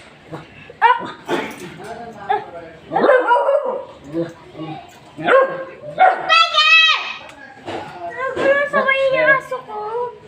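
A dog barks and yips several times in short bursts, close by, mixed in with frequent talking from people nearby.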